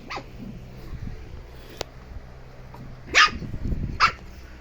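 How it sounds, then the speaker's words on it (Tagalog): Shih Tzu puppies play-fighting indoors give a few sharp, high yips and short barks, spaced apart, with soft scuffling and growly noises in between. "Hala, naglaban mga tuta."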